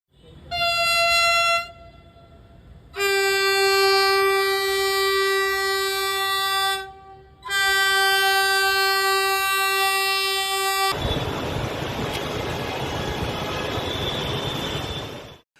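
A metro train on a trial run at low speed sounds long, loud horn blasts, three in a row with short gaps, then rumbles past as broad, steady rail noise.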